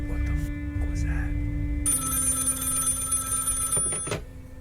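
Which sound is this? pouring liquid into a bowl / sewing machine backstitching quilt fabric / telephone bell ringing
telephone bell ringing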